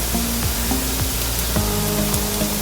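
Chopped onions sauté in a hot pan for a soya kheema filling, a steady loud sizzle and hiss with a few faint clinks of a spoon stirring, no voices.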